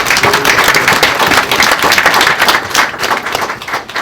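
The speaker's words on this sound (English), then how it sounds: "Let's give everybody a round of applause." An indoor audience at an award ceremony applauds, dense sustained clapping filling the room at full volume from start to finish, with no speech.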